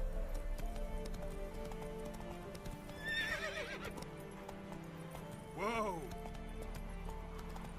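Roach, the horse in The Witcher 3, clip-clops along at a gallop, with two close neighs or whinnies under the steady hoofbeats, while a man calls out briefly.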